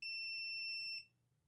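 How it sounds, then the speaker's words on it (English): Bulb-life alarm on a Lancaster UV water filtration unit sounds a single high-pitched electronic beep lasting about a second, clear and steady, then cuts off into quiet room tone. "When you have 7 days left of your bulb life, this will start to alarm."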